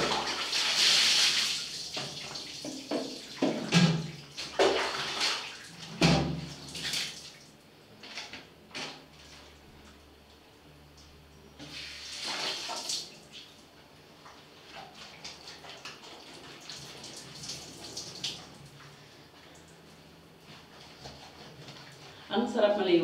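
Water running from a tap while clothes are washed by hand in a bathroom, splashing bursts and steady flow at moderate distance, with occasional drips and handling noises.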